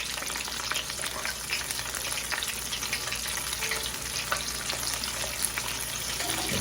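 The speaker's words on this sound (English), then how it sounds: "But I'm going to fry these up because it's the way I do it" Cornstarch-coated shrimp fry in hot oil with a dense, continuous crackling sizzle, close and loud, holding steady throughout without any voices.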